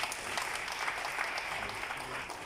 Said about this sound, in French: Est-ce qu'on peut applaudir pour les prochains?